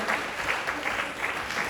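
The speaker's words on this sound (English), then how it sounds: "Clap for yourselves again." A church congregation claps for itself during a service, a soft, fairly distant patter of applause with a loose rhythmic pulse, steady for the whole stretch with no voices on top.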